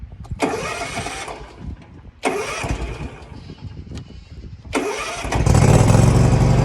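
A Hustler zero-turn mower engine runs in bursts: it starts, stops, and restarts several times, with the engine note revving and then settling into a loud, steady idle close by after a drive belt replacement.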